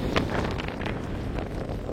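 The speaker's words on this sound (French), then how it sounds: "regardez le vent qui change de direction entre nord-ouest et sud-ouest" Strong gusts of wind during storm Benjamin in Isère roar continuously against the microphone, a dense, rushing buffeting with brief louder surges and no voices.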